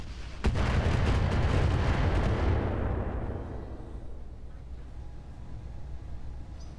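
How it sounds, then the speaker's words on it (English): An artillery barrage in the video game Roguetech starts with a sharp boom and becomes a dense, heavy rumble of explosions. It is loud at first and then slowly fades into a long, low tail. "There goes the barrage."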